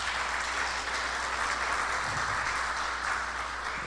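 Audience at a lecture applauds, a continuous, even wash of clapping at a moderate, somewhat distant level over a low background hum.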